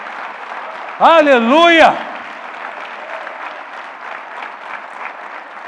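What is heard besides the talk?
church congregation applauding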